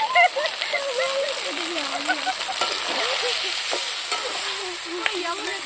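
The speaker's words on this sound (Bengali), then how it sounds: "বন্ধুরা মশলাগুলো ভাজা ভাজা হয়ে গেছে, দেখুন কত সুন্দর হয়েছে" Spices frying for a village-style mutton curry cooked outdoors, stirred steadily in a pan, with continuous sizzle and scraping close up; a voice speaks intermittently over the cooking.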